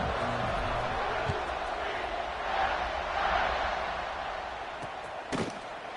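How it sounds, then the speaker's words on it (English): Stadium crowd at a college football game (UCF) keeps up a steady, broad roar and murmur throughout, swelling slightly mid-way, with a sharp thump near the end. "this crowd is buzzing after that last score."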